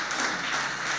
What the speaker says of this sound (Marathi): आभार प्रदर्शन केल्याबद्दल एकदा टाळ्या वाजवू